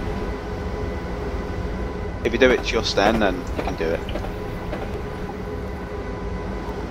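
A train runs in Train Simulator 2013, a steady low rumble of rolling wheels and motor throughout, with someone talking over it partway.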